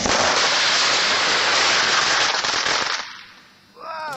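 A firework explodes right at someone's face in a loud sustained crackling roar that fills the first three seconds, then dies away, followed by a faint whistling tone.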